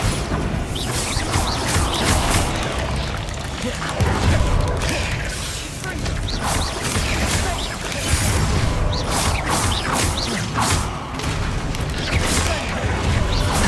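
Bombarda blasting spell in Hogwarts Legacy, a long stretch of dense booming blasts, crashes and debris clatter with whooshing sweeps, loud and continuous with repeated sharp impacts throughout.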